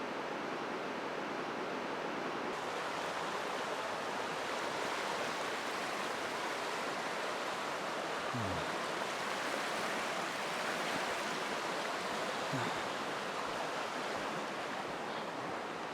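A river rushes through a small valley along the Te Puia Track in New Zealand, a constant, even wash of flowing water that fills the whole scene without a break.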